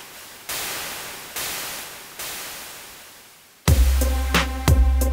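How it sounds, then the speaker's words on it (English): Electronic white-noise crashes from a Roland TR-8S drum machine hit one after another, each hiss swelling then fading like a cymbal, before punchier drum-machine beats and tones kick in. "Let's just use a crash cymbal that is white noise."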